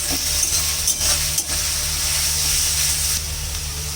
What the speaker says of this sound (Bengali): এখন মশলাটা পড়বে পেঁয়াজ কষা